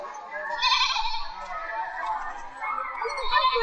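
A human voice imitates a goat's bleat with a drawn-out, wavering nasal call of about three seconds, with a second bleat-like rise near the end.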